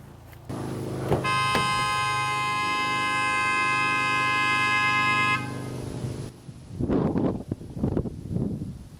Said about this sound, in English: I'm going to lay on the horn in my car as loud as I can